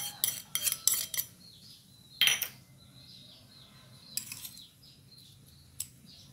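A teaspoon clinks against a metal bowl or pot as seasoning granules go into a sauce for fried bitter melon, a few sharp clatters early, then quiet with faint tapping and scattered clinks.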